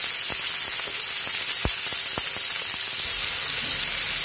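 Mixed vegetables sizzle in hot mustard oil tempered with mustard seeds and dried red chillies, a steady broadband hiss with a few sharp spatter pops, continuous and close with no talk.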